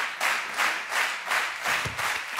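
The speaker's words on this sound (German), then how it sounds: "Applaus für unseren Herausforderer bitte nochmal." Studio audience applause for a challenger at a goal-wall shooting contest, steady dense clapping in rolling waves, close and full, with no voices over it.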